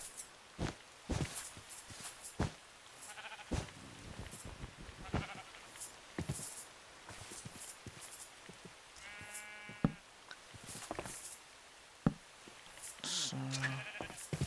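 Sheep in a video game bleat twice, the cries standing out amid scattered thumps and footstep-like knocks, with faint voices occasionally in the background.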